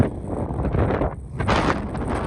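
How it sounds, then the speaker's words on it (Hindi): Strong wind on the More Plains in Ladakh buffets the microphone with a heavy, rumbling roar that surges and eases in gusts. "बहुत ही तेज हवा चल रही है।"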